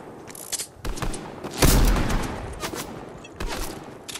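Gunfire in the Fortnite video game, a cluster of sharp shots and a heavier boom over a few seconds, with players talking over the action.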